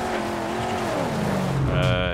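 Car engine and tires in the Mad Max video game, a steady motor drone with a rising pitch and a brief tire screech near the end, loud and close.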